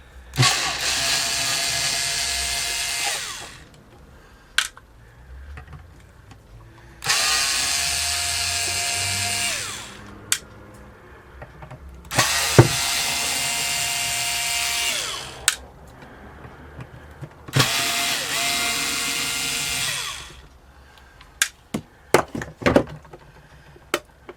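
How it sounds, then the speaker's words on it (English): A power screwdriver unscrews the back cover of a 1960 Gibson Les Paul guitar in four loud whirring bursts of a few seconds each, with clicks and handling noise in the pauses between them. "Next thing we need to do is we need to unscrew the back"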